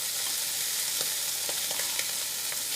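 Scallops sear in a hot pan just after being flipped, giving a steady, close sizzle with scattered small pops and crackles throughout.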